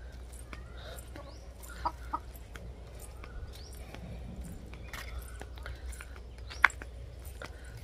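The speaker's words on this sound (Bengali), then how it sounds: "মুরগিগুলো সব ভিটাতে ঢুকছে, আর হচ্ছে ঝালের গাছগুলো খাচ্ছে।" Chickens wander into a village homestead yard, pecking at chili plants, giving scattered soft clucks and occasional sharper calls at moderate distance, with light footsteps and low background noise.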